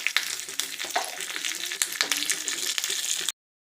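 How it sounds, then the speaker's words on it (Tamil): Mustard seeds and curry leaves frying in hot oil as a tempering for sambar, a loud, dense crackle and spatter of popping seeds close by, ending abruptly after a few seconds. "ஆயிலில் வந்து கடுகு போட்டாச்சு. கடுகு போட்டோடனே பொரிஞ்சோடனே கருவேப்பிலை போட்டுக்கலாம்."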